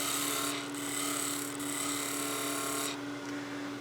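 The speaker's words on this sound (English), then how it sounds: "And we're using the spindle roughing gouge." A spindle roughing gouge cuts a wooden Christmas gnome blank spinning on a lathe, giving a steady, close, continuous rasping hiss with a brief lull midway.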